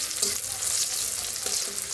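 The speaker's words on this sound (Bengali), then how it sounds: "এখানে লবণ, পেঁয়াজ, তেল আর কাঁচামরিচ দিয়ে দিলাম।" Onions and green chilies with salt sizzle in hot oil in a wok, a dense steady crackling hiss with light stirring scrapes, close and loud throughout, no talking.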